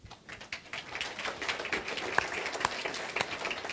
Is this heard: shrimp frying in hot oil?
no